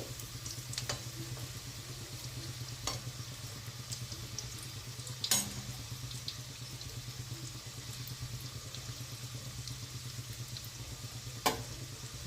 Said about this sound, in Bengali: দুটো সাইডই খুব ভালোভাবে ভেজে নিতে হবে।